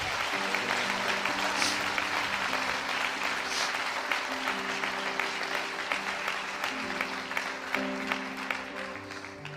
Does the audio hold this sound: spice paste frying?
no